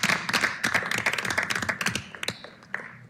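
A small group at a city council meeting claps together, close and steady, with dense overlapping hand claps for a few seconds that taper off toward the end.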